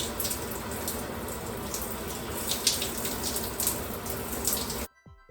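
Steady tap water pours close by for about five seconds as hair is soaked before an apple cider vinegar rinse, then cuts off abruptly, leaving a few faint drips and clatters.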